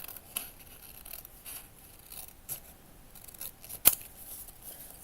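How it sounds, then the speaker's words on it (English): Scissors snipping coloured paper for a miniature cat cafe room box, a series of soft, close cuts and rustles with one sharper snip, quiet and without talk. "I'm just gonna cut this color here on top off again"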